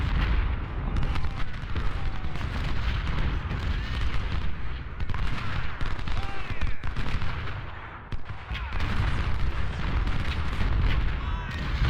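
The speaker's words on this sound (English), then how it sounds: "There's a lot of artillery over here." Artillery fire booms repeatedly in the Civil War battle game Ultimate General: Civil War, a dense, continuous barrage of heavy blasts and crackling shots with a brief lull near the end.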